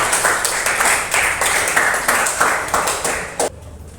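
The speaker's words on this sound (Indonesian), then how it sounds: "Oke, tepuk tangan buat Abi." Students in a classroom applaud, a quick run of fairly close, rhythmic bursts of clapping that stop abruptly near the end.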